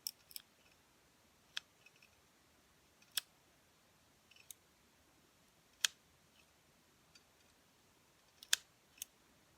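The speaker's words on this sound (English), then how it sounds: "I'm gonna just have a little trim here and look." Small scissors snip dead conophytum roots in a quiet room, giving about a dozen sharp, crisp clicks spaced irregularly, some coming in quick pairs. There is no talk.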